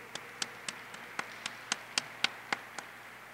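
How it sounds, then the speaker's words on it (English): One person claps slowly and evenly, about a dozen sharp, close, isolated claps in a quiet room, at a youth digital equity graduation ceremony in San Francisco, with no talking. "I want to take a moment and ask everybody to give them a round of applause"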